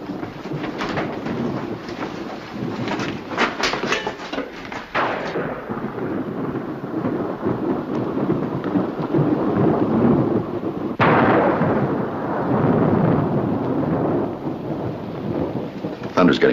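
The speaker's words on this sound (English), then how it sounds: "Thunder's getting closer all the time." Heavy thunderstorm in a 1964 wartime TV drama scene: loud, deep thunder rolls and booms again and again over steady rain, with sharp cracks and sudden surges of rumbling and no speech.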